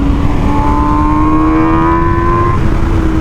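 An MV Agusta motorcycle accelerates hard, its engine note climbing steadily in pitch over a few seconds, loud and close against constant wind rush.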